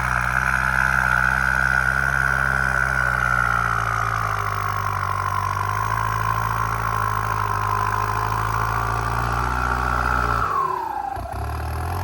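A tuned turbocharged Isuzu MU-7 engine runs steadily near, a low droning hum with a whining tone that slowly falls, then drops off sharply near the end.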